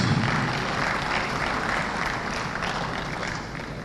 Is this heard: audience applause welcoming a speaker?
yes